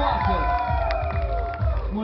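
Audience at a costume contest cheering and whooping for six costumed participants, a loud, continuous crowd roar with voices rising and overlapping throughout.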